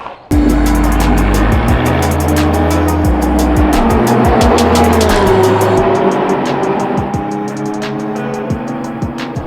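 A race car on the Circuit de Barcelona-Catalunya roars close by, its engine note rising and falling through gear shifts under a continuous loud drone that fades a little toward the end.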